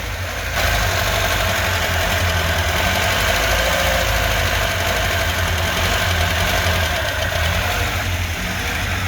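A LADA 2104 car engine runs steadily after a fuel repair, a loud, continuous low idle with a faint knocking rhythm that holds through the whole stretch with no talk.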